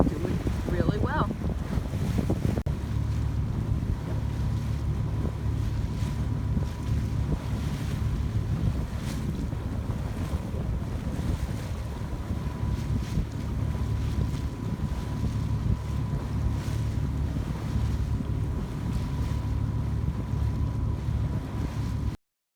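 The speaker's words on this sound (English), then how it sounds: "So of course we're just motor sailing because the wind's right on the nose" An Island Packet 320 sailboat motor sails into a headwind on open water near Key West, giving a steady engine drone under continuous wind rush and water noise that carries on throughout.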